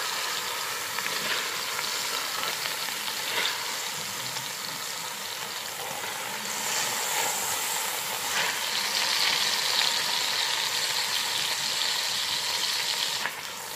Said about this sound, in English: once these have gotten a little searing action on each side